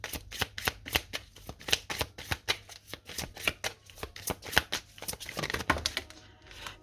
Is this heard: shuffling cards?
yes